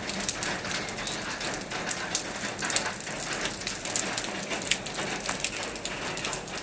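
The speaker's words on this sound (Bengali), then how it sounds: "অনেক বৃষ্টি হচ্ছে।" A steady downpour of heavy rain in a hilly forest, loud and close, with constant hissing and pattering drops clattering on nearby surfaces.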